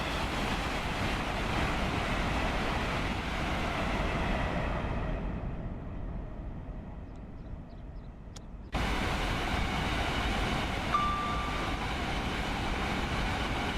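A freight train in a Trent Valley rail simulator, a continuous rumble with wind-like rushing that dips and thins for a few seconds, then cuts abruptly back to full steady running noise.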